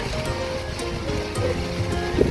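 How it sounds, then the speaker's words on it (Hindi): Spring water spilling straight down from above near Lulusar Lake, a steady broadband rush that holds level throughout, with no talk. "ये ऊपर से एक चश्मा निकल रहा है और सीधा नीचे आ रहा है ये।"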